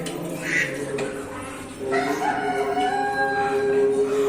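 Chickens cluck nearby, then a rooster crows in a long, drawn-out call.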